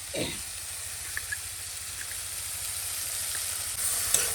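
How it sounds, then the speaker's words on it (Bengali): Squid frying in a pan with spice paste, a steady close hiss and sizzle, with a brief louder burst at the start and a few small pops, no talking. "এখন এই মাছ দিয়ে দিচ্ছি এখন স্বাদ মতো নুন দিয়ে দিচ্ছি"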